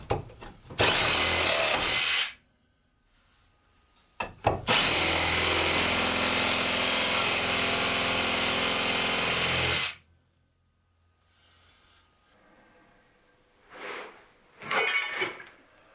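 Sawzall reciprocating saw cutting through toe-nailed wooden shelf boards, two loud close buzzing bursts, a short one then a longer run of about six seconds, followed by quiet knocks and handling.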